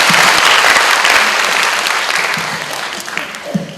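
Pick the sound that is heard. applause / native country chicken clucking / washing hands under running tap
applause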